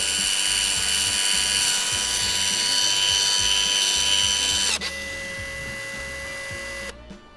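A Dnipro-M DSG-200 electric sealant gun runs at maximum speed with a loud, continuous mechanical whir. Its pitch shifts partway through, and it runs on steadily before cutting off abruptly near the end, with no voices.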